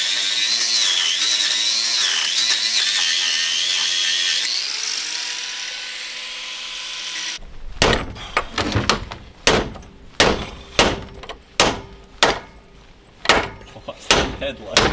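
Power tool whining steadily while cutting a bolt off a Jeep Wrangler TJ bumper. The motor drops in pitch and stops, followed by a series of loud knocks and clanks at a regular pace, close by.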